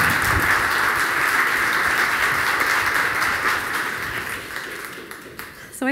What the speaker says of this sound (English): Could we give a big round of applause Thank to Sandra?